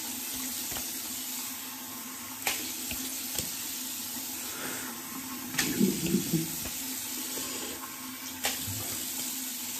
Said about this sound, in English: We're getting some cold water right now.